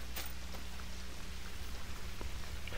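Rain falls outdoors at a hunting spot as a continuous soft patter with a few sharper drops hitting nearby surfaces, fairly quiet and with no speech.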